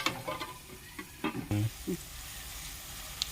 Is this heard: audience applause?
no